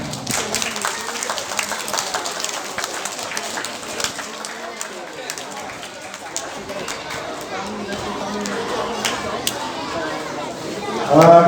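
Clapping from a group of children and adults at a community event in Perlis, loose and uneven, mixed with chatter, shouts and running about.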